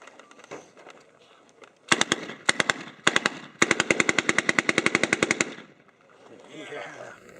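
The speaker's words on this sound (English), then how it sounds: "M1A1, Thompson submachine gun." An M1A1 Thompson submachine gun fires at a reenactment multigun match. Several short bursts lead into one long rapid string of loud, sharp shots, followed by quieter outdoor background.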